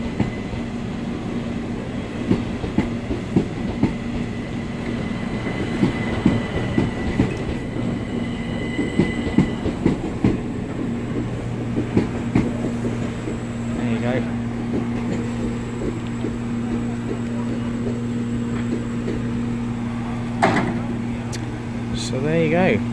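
The steam locomotive Mayflower 61306 rumbles past at Eastbourne with a steady, droning roll of wheels and carriages close by, occasional squeals and clanks, and a voice talking over it.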